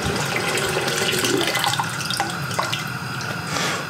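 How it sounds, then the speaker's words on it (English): Tap water runs steadily into a water bath canner being refilled while making jelly, a continuous splashing rush with small drips, close and alone with no talk. "I need to fill that up with a little bit more water."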